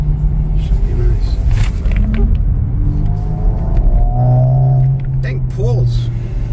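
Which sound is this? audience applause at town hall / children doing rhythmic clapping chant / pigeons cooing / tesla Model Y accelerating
tesla Model Y accelerating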